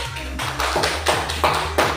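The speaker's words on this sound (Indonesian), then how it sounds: "tepuk tangan dulu" Classroom group clapping hands in unison, about five sharp, evenly spaced rhythmic claps over a low sustained hum, near and clear.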